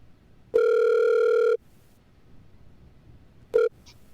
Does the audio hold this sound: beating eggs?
no